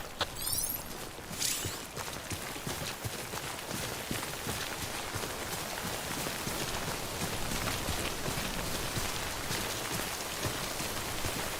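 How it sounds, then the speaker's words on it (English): Timefall rain in the Death Stranding video game patters steadily and densely across the whole stretch, a soft even hiss of drops on surfaces with no voices. "Don't stay out in the rain any longer than you have to."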